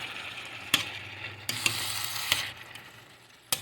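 Chili beans in sauce warming in a slow cooker for a tamale pie, a soft low sizzle broken by several sharp clicks and scrapes of a spoon against the pot, no talking.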